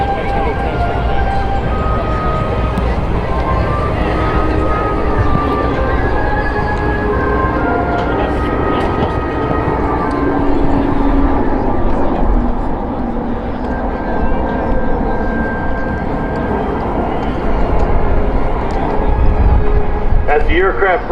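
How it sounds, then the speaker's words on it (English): Jet aircraft at the Great Texas Air Show 2024 breaking from formation, with a KC-135 manoeuvring for a landing demonstration; a steady, loud engine roar fills the whole stretch beneath a public-address commentator's voice. "As the aircraft break up their formation, the KC-135 is maneuvering for its landing attitude demonstration."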